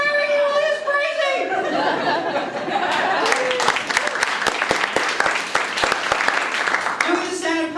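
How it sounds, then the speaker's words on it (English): Audience applause at a stand-up comedy show, a dense burst of clapping that starts over crowd chatter and laughter, then settles into steady, close hand claps lasting several seconds. "people applaud whether they like it or not"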